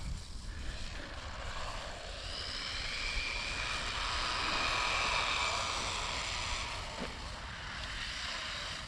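Small Haiboxing RC car electric motor revving hard under too much throttle, a steady high whine that swells and fades as the car passes at moderate distance outdoors.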